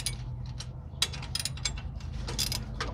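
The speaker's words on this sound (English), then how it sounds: "That's what I've got the ratchet wrench for." A ratchet wrench clicks in quick uneven bursts while tightening clamps on a garden tool bar, close and crisp over low background hum.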